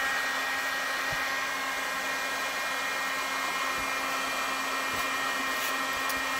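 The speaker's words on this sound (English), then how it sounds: "we got our DeWalt heat gun with the slot guy on it" A DeWalt heat gun fitted with a slot nozzle blows hot air in a steady, close, even whoosh that holds unchanged from start to finish, with no talking.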